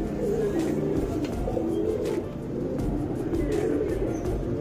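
Soft pigeon coos from a medium-sized female Tamral pigeon, repeating low and close over a steady background hum, with faint traffic noise behind.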